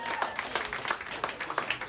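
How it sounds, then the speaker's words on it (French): Audience applause from a French-speaking crowd after a speaker is introduced, a steady patter of many hands clapping at moderate distance with a voice faintly over it. "je pense qu'on peut l'applaudir"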